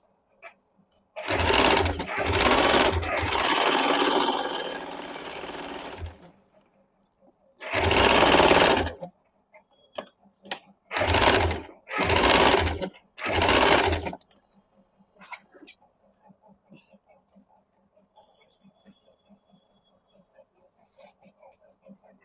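A sewing machine stitching the collar of a suit runs in several bursts, one long run followed by four short ones, loud and close, with quiet pauses between and faint background noise afterward.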